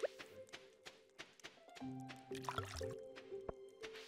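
Watering can pouring onto crops in Stardew Valley, a few short squishy splashes and drips of water in quick succession, with soft game music underneath.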